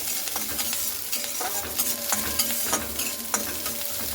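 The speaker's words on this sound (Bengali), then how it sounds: "পেঁয়াজটা খুব ভালো করে লাল লাল করে কিন্তু ভেজে নিতে হবে" Sliced onions and whole dried red chillies fry in oil in a pan, a busy crackling sizzle broken by scraping stir strokes, close and steady throughout.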